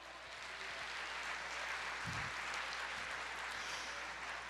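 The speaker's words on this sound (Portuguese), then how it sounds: "Aplauda, Senhor." A church congregation applauds during a sermon, producing a steady, even wash of clapping that fills the whole few seconds.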